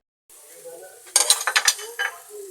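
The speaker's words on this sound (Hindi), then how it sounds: "तो गाइस आपने इसको आहिस्ता आहिस्ता चलाना है आपने।" Carrots cooking in butter in a pan, stirred slowly: a low sizzle first, then a run of close scraping and clinking strokes from the spoon against the pan.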